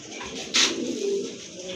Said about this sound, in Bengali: মাশাল্লাহ দেখেন কত সুন্দর এক জোড়া কবুতর, কোয়ালিটিফুল এবং কালারফুল কবুতর